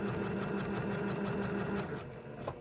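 A sewing machine stitches a quilt block seam, running at a fast, even rhythm close by, then slowing and stopping near the end.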